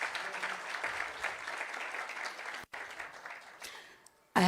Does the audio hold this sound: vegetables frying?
no